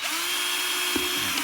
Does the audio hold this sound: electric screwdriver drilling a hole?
yes